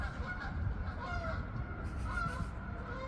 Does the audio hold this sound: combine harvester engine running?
no